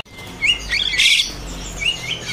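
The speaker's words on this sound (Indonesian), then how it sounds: "Di sini ada burung jalak kapas ya." A jalak kapas starling sings at close range at a bird seller's stall, giving a few clear whistled chirps and a brief louder burst of song over faint background noise.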